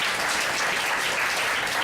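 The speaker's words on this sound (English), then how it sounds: "Give them a round of applause." A church congregation claps to welcome newcomers, with loud, even applause filling the room for the whole stretch.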